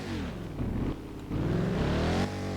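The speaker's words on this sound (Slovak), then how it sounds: "Môžeme skúsiť Ford Mustang. Fú, ale to má dobrý zvuk." A Ford Mustang engine in the video game Driving Empire revs in strong rising and falling sweeps, close and loud, with clear gear-like steps in pitch and no talking.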